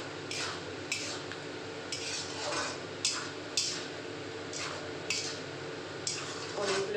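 Paneer goes into a pan for a matar paneer dinner dish: a utensil clinks and scrapes against the pan at a steady, repeated pace over a soft background hiss.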